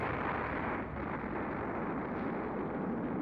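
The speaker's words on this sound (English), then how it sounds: "the sound of a massive explosion erupts from behind me" A massive explosion in the video game Robotics;Notes Elite, heard as a loud, sustained, dense rumbling blast that fills the whole span with no gaps or quiet moments.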